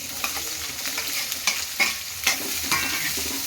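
Chopped onions for an egg curry sizzle steadily in hot oil, a continuous hiss with a few sharper crackles and stirring scrapes, close by and alone with no voices.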